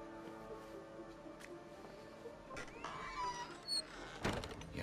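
A cat in Assassin's Creed Mirage makes faint, brief sounds among soft ambient game noise, with a short mid-pitched call and a louder bump near the end.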